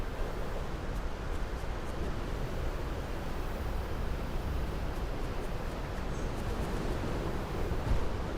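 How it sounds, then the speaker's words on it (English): Wind gusting in a survival video game, a steady broadband rush at moderate level, unbroken and without speech. "Sounds very windy."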